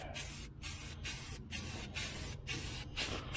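A can of Walmart spray paint hisses in a quick series of short, even bursts with brief pauses between them, spraying under the hood of a 1976 El Camino. It is close and clear, with no talk.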